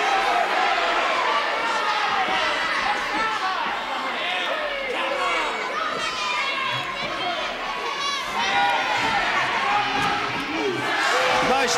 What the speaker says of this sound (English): The crowd not very happy.